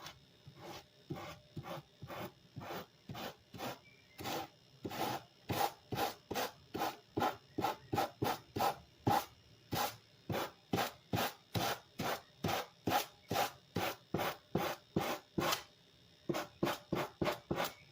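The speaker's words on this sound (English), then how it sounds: "it's not, it's sanding off." Rhythmic back-and-forth rasping of sandpaper taking paint off a Mod Podge ballerina lampshade, dozens of quick even strokes, close and fairly quiet, with a brief pause near the end before the strokes resume.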